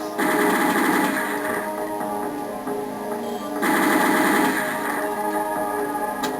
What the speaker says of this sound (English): you have to shoot through the targets